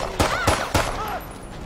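Three sharp gunshots crack in quick succession in a GTA V police mod shootout, loud and close, followed by a brief ringing tail.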